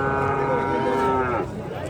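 A ten-month-old calf at a busy cattle market in Palayam gives a long, drawn-out moo that rises and then fades, set against steady crowd and market noise.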